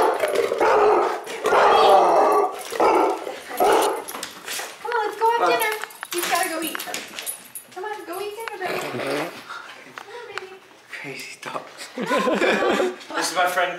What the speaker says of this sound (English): friendly little dogs.